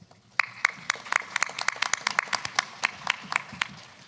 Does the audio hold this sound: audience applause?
yes